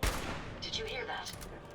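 A single gunshot fired by the player in Fallout 4's Automatron DLC, a sharp close crack at the very start, followed by a short fading tail and faint ambient noise.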